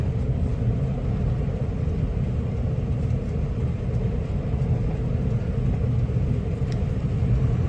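A truck on the move gives off a steady, loud engine rumble and road noise that stays constant throughout, with no one talking.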